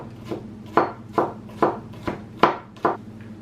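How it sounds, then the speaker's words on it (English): A knife chops peeled garlic on a cutting board with six sharp, evenly spaced knocks, close and clear, each one a crisp thud and then a short quiet gap. "you're just gonna go ahead and chop or slice the garlic."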